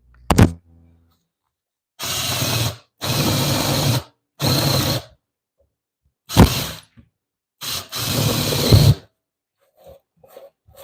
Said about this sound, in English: So I'm drilling these holes out so that removing the waste will be a less laborious process.